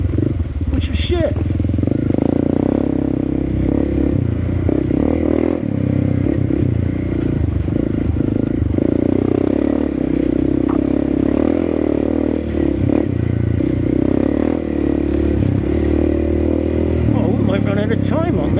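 A Honda CRF301CC motorcycle engine runs steadily loud on an off-road ride, its throttle rising and falling close by with clattering and wind noise throughout.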